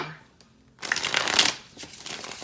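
Tarot cards shuffled by hand in a short, close riffling burst after a brief quiet pause, rising to a crisp flurry and then tapering.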